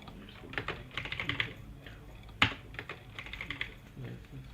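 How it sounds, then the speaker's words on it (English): Clattering keystrokes on a computer keyboard come in quick irregular bursts with one sharper, louder key hit midway, close and fairly quiet. "Just don't mind the keyboard sound."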